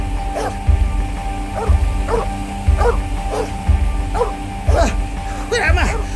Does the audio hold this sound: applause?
no